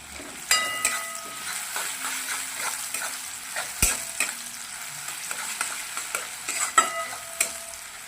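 Onion frying in a pan as it browns, a soft low sizzle punctuated by repeated spatula scrapes and knocks against the pan, fairly quiet and close.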